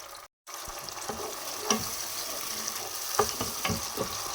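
Cauliflower dish cooking in a pan with grated carrot going in, a steady soft sizzle with a few light stirring clicks and scrapes, no talking.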